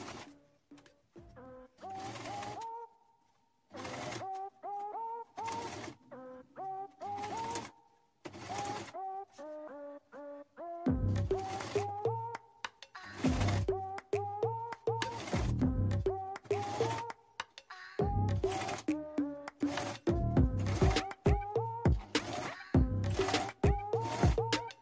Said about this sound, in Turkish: biyemin ilk dikişini atacağım ve dikiş attıktan sonra çevirip tekrar dikeceğim